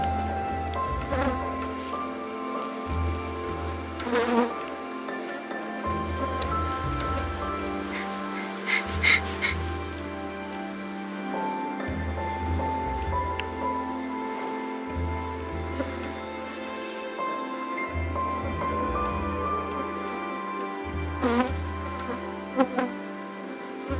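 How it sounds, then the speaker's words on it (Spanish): Honeybees on a crowded beehive frame in rural Génova, Quindío, Colombia, a dense, continuous buzzing swarm heard close up, with a steady low hum pulsing on and off beneath it. "un marco con bastante abeja"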